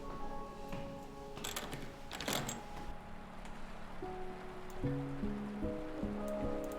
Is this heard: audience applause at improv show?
no